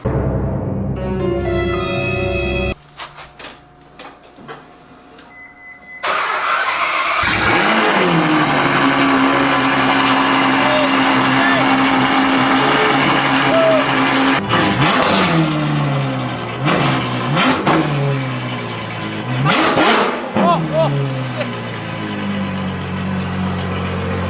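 A straight-piped Ferrari F12 V12 is revved hard, a loud, rasping roar with several sharp rising and falling throttle blips after a brief lull, close and unmasked by talk.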